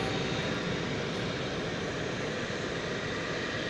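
A Delta jet airliner taking off at DFW Airport gives a loud, dense, unbroken engine roar that stays constant throughout at close range, with no voices present.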